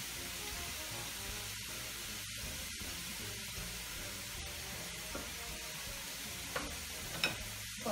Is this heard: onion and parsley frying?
yes